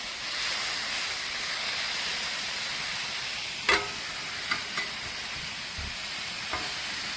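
Taco meat searing on a hot griddle, a steady loud hiss and sizzle throughout with a few sharp scraping clicks of a spatula, close up and without talk.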